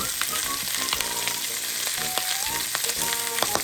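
Butter melts in a hot pan for pork pineapple, producing a dense, continuous sizzle with occasional sharp pops and light utensil clinks, close and steady for the whole stretch.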